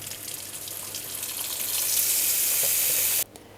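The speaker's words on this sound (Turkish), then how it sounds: "Çeşmeyi açıyorum." Tap water running into a kitchen sink to cool a pot of homemade white cheese, a steady hissing stream that grows fuller, then cuts off abruptly near the end.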